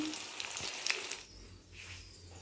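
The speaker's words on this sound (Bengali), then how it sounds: "তারপরে এই যে বড়া ভাজতে করাইতে দিছি" Rice-lentil batter fritters (bora) fry in hot oil in a kadai, a soft close sizzle with crackling pops that eases off, alone without talk.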